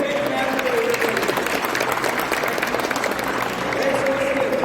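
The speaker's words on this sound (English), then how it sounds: "Give a big clap for everybody." Clapping from an audience at a college orientation programme, a dense steady wash of applause under a loud room hum with faint voices mixed in, continuous for several seconds.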